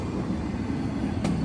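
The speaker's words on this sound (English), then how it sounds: "Yeah, that was a good train." A freight train on the Peavine short line railroad rolls past in a steady, dense rumble of wheels and cars, loud and continuous throughout.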